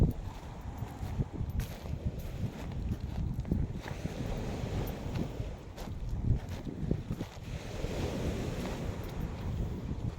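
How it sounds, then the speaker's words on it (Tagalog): Strong waves crash against a shore in front of seaside houses, a steady, loud roar of surging water mixed with heavy wind noise that runs unbroken throughout, with no talking. "Dito muna babangga yung tubig na malakas."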